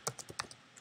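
Fast, faint clicks of keys on a Mac keyboard, about six quick keystrokes in under a second, close and with no talking.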